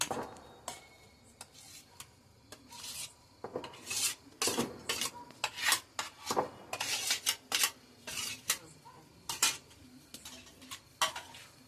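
A spoon scrapes and clinks against a pan as brinjal bharit is stirred over a wood-fired stove, with irregular metallic knocks and rubbing strokes, fairly close, and no talking.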